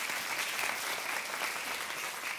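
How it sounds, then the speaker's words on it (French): Continuous, full applause from a church congregation during a sermon, dense and even throughout at a moderate level. "applaudissez pour de vrai"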